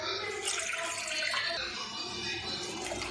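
Water poured steadily into a cooking pot while making sweet pongal, a continuous close splashing and trickling stream that runs alone without talk.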